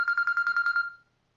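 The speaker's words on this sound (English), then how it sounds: "the phone starts ringing" A phone rings indoors, close and clear, giving a quick series of about eight evenly spaced electronic beeps that stop suddenly, followed by silence.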